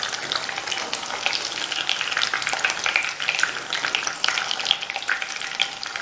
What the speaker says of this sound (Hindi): ये दोनों साइड से हमने जो है इसको गोल्डन ब्राउन फ्राई कर लिया है।